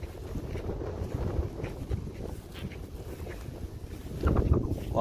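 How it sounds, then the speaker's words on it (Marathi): Strong wind buffets across an exposed hilltop above a Konkan village, a continuous low rushing roar that swells louder toward the end. "काय हवा सुटले जोरात. वारा सुटलाय."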